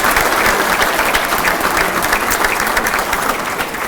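A large crowd at a bowling Hall of Fame banquet applauds loudly and continuously, dense clapping that holds steady throughout.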